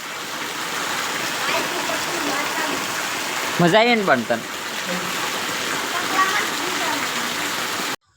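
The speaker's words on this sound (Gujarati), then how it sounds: "આવો તો વરસાદ કોઈ જ નથી પડ્યો" Steady, dense rain hisses throughout, with a brief voice and a short tonal sound rising over the downpour midway.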